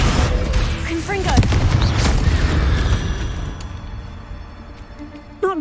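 A Confringo blasting spell explodes in Hogwarts Legacy, a heavy booming blast with rumbling low-end decay that fades over several seconds, with a creature's screeching cries cutting in near the start and again at the end.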